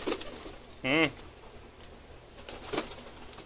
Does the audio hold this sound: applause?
no